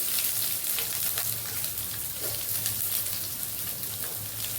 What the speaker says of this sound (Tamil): கடுகும் வெந்தயத்தையும் போட்டுருவோம். அது பொரியணும்.